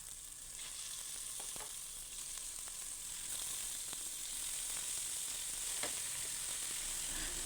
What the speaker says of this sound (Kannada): ನೆಕ್ಸ್ಟ್ ಇದಕ್ಕೆ ನಾನು ವಾಶ್ ಮಾಡಿ ಇಟ್ಕೊಂಡಿರುವಂತಹ ಮಟನ್ ಪೀಸಸ್ನ ಸೇರಿಸ್ಕೊಳ್ತಾ ಇದ್ದೀನಿ